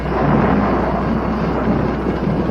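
A steady, heavy rumble of storm noise with rain-like hiss and deep low rolling, continuous and loud throughout, no voices.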